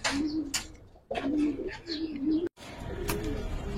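Giribaz and coloured pigeons in a loft give repeated low, throaty coos in rolling bursts, close by, with faint chirps and soft rustling around them.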